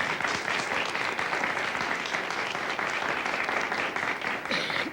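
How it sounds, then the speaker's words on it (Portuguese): Steady, dense applause from a theatre audience honoring Chico Medeiros, many hands clapping continuously at an even level for several seconds. "Vamos aplaudir Chico Medeiros."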